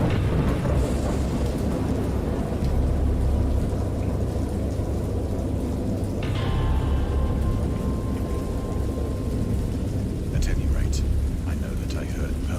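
Storm with heavy rain and thunder in the video game Dagon, based on H. P. Lovecraft's story: a loud, constant roar of rain with low rumbling throughout and a sharp crack of thunder partway through.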